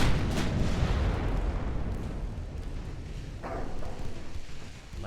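Warship guns firing in the naval video game Ultimate Admiral Dreadnoughts produce a heavy, rumbling boom that rolls on and slowly fades, with no voices over it.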